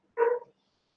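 A single short dog bark, close and fairly loud, a quick yelp that cuts off into silence.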